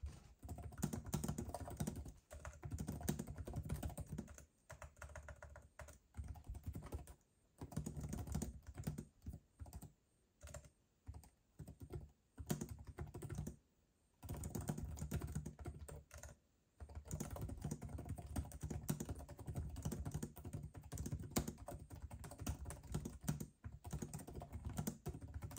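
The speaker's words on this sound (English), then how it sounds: "let's do a little typing anyways" Typing on the keyboard of an MSI Vector GP68 laptop, a close, continuous run of quick key clicks with a few short pauses, no voices.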